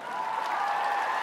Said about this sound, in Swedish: Och håll i den applåden, för här kommer Benson Boone!